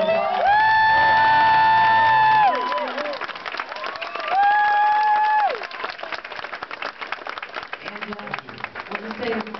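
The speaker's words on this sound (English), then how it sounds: "let's give them a round of applause" An audience at a San Francisco Giants FanFest question-and-answer session breaks into applause mixed with whoops and cheering voices, loud at first, then settling into scattered clapping.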